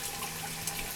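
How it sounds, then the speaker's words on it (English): Water pours from an aquaponics pump outlet into a bucket filled with gravel, a steady close splashing trickle that runs continuously for the whole second. "the pump's on right now, the water is coming out"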